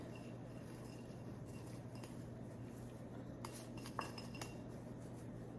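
Quiet clinks of a spoon against a bowl as chopped green garlic is added to a ground mixture, a few taps near the end over a steady background hum.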